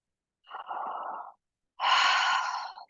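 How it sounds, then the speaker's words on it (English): A person's wide-open-mouth yawn during a restorative yoga relaxation, eyes closed, heard as two soft, breathy exhalations, the second longer and fuller, close and otherwise quiet. "open your mouth wide open and yawn"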